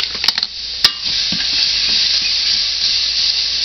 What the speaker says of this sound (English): And we'll whisk up these eggs.